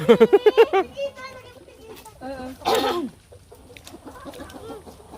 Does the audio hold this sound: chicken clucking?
yes